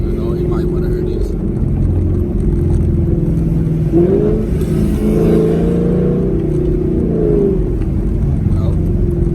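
A Chevrolet SS car rumbles throughout, revving once midway with a brief surge, while voices talk over the engine noise.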